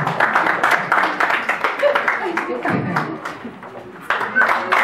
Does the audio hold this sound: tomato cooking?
no